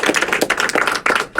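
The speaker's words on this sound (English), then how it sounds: "Can we get an applause for that?" Audience applause following a call from the speaker during a speech at Appalachian State University, a brief dense burst of many hands clapping close and loud with no talking over it.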